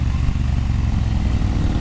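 A Triumph Bonneville Bobber with its 1200cc parallel-twin engine idles or runs steadily nearby, giving a continuous low, rumbling drone with no talk.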